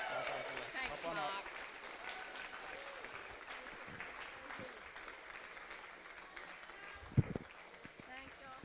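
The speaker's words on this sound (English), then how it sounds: "Another round of applause for our female division podium" An audience at a ninja competition finals applauds the female division podium, with sustained clapping and cheering from a crowd, and an announcer's voice over it.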